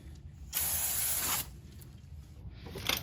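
A bottle of spray cleaner hisses in a single steady burst of about a second onto the oily countershaft sprocket area of a Husqvarna/KTM four-stroke motorcycle, followed later by a shorter faint spritz.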